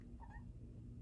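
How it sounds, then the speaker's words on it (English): A foster cat gives one short, soft meow close by, a brief tonal cry early on against a low, quiet indoor background. "I have a foster cat, and there she is."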